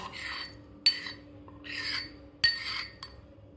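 Ground masala chai spice mix scraped and tipped from a grinder jar onto a plate, heard as soft rasping pours broken by sharp metallic clinks, with quiet pauses between each scoop.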